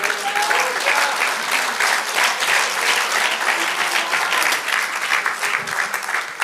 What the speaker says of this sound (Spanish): Dale aplausos a Dios.